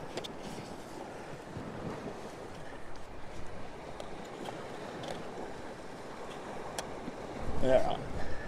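Wind blows outdoors as someone swaps camera lenses, a broad rushing noise buffeting the microphone steadily, swelling into a stronger gust near the end, with someone talking over it.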